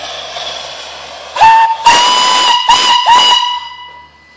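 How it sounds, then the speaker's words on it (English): A steam engine boiler whistle blows loud and near in several short bursts, a clear tone riding on rushing steam hiss. "Whistle works great."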